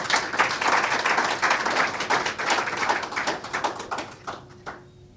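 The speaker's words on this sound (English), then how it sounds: "Please give her a round of applause" Audience applause at a book launch, a steady patter of many hands clapping in a room that thins out and fades toward the end.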